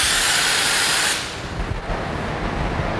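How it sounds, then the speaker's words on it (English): A spray can of fiberglass product hisses in a loud, steady burst for about a second before stopping, leaving quieter room noise behind. "I'm gonna let it flash for a minute and spray the rest of this on here"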